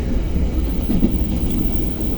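A CC 201 diesel locomotive running on rails at around 60 km/h, heard as a steady low rumble and roar with no distinct clicks, loud and continuous throughout.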